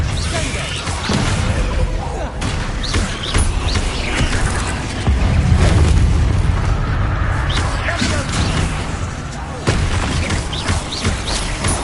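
Confringo blasting spells go off amid a busy Hogwarts Legacy duel, with repeated booming explosive bursts and crashing impacts over dense low rumble, loud and close throughout a chaotic spell-casting fight.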